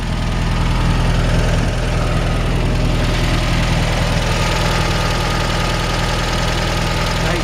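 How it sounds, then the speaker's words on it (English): A 1976 Volkswagen Beetle engine idles steadily nearby, a continuous low, even rumble with a slight rhythmic knock and no voices. "Nice, healthy Volkswagen engine."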